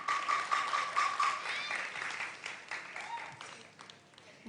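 Studio audience on a TV talk show clapping to welcome a guest, a moderate burst of applause that fades gradually, with a voice talking over it.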